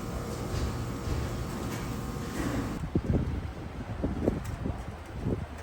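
Gusty wind buffets an outdoor microphone near a roadside stop in Colorado, a steady broad rumble for the first half, then rougher, uneven thumps and bursts of mic buffeting.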